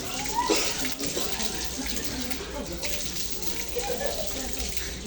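Water pours steadily from a tap as a person rinses the nose during ablution (wudhu), a close, continuous gushing stream with small splashes and no speech over it.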